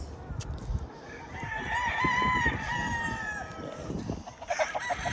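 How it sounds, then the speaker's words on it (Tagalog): A prized rooster crows once in a long drawn-out call, fairly close, with clucking and farmyard noise around it. "Napakagandang manok."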